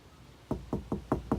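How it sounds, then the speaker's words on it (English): Five firm knocks on a door during a stage play, evenly spaced and close, with quiet before the first knock. "How they knock, who's there?"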